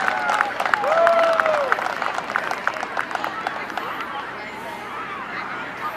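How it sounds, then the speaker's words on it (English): An audience at a high school athletic hall of fame ceremony cheers and claps, a lively hubbub of applause and whoops that slowly thins out, with voices mixed in the crowd noise. "let's all cheer him on"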